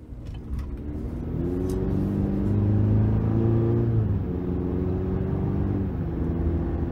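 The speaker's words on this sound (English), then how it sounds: "take this 2023 GMC Sierra 1500 Pro out on the road for a quick test drive" A 2023 GMC Sierra 1500 Pro pickup with the 2.7-liter turbo engine drives on the road, its steady mid-pitched engine drone swelling as it accelerates and then easing off, heard from inside the cab with no talking.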